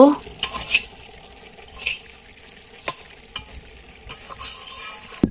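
Broiler chicken meat goes into a pot of chicken biryani rice: a close, continuous sizzle with repeated scraping stirs and sharp metallic clinks of a spoon against the pot.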